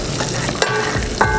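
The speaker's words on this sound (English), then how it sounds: "So my butter is melted now. I did add the brown sugar, which we're gonna cook to a point of being" Butter and brown sugar sizzling in a pan as they cook toward caramel, a steady close frying hiss with two brief stirring scrapes, no talk.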